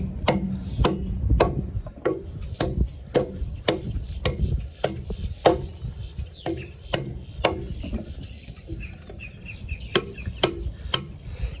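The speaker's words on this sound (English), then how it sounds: "So I'm gonna have to do some chopping right now without the lanyard." A survival knife with a drop-point 154CM steel blade chops wood outdoors: a long run of sharp, close, fairly regular thwacks, roughly two per second, with faint bird calls in the background.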